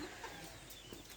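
Laying hens on a farm cluck softly in a steady low chatter, close by and continuous, with a few brief louder calls standing out.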